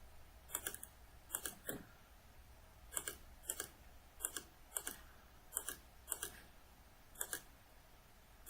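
Keys tapped on a computer keyboard in short clusters of sharp clicks, often in pairs, close and crisp against a quiet room.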